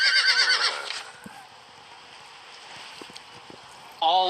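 A horse sound effect from a storybook reading app: one loud, bright whinny fills the first second, then fades to a quiet background, and a short synthetic tone sounds at the very end.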